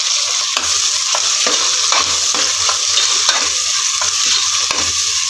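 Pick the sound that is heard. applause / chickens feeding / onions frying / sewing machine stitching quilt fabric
onions frying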